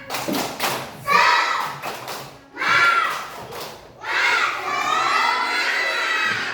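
Children in a classroom doing the tepuk semangat clapping chant: bursts of rhythmic claps and taps alternate with loud shouted chanting from the group, three vocal bursts between clap runs.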